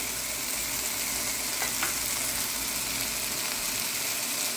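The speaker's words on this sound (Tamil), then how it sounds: "கரம் மசாலா, நல்லா வதங்கட்டும்" Mushroom masala with garam masala, coriander powder, cumin powder and Kashmiri chili powder sautés in a pan, giving a steady, close sizzle and fry hiss with a faint stir scrape, no voices.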